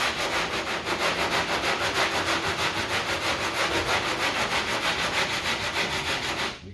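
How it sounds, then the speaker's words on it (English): Sanding block scrubbing over partly cured bondo body filler on a dented car panel, a steady rapid back-and-forth rasp that runs continuously and close up, then stops abruptly at the end. "So what I'll do is I'll sand till that goes away"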